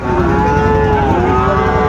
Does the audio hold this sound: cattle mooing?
yes